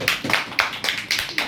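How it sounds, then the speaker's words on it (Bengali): Enthusiastic clapping in an office gathering, a few quick, sharp bursts of hand claps close by, uneven in rhythm over a short moment. "জোরদার হাততালি।"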